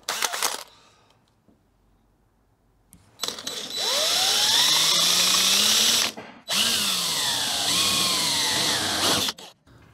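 Power drill boring holes for rivet nuts in wide-body arch brackets, two long steady runs of high whine with pitch sagging and recovering under load, close and loud, after a short quiet pause.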